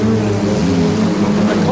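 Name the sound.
V6 super saloon race car engines racing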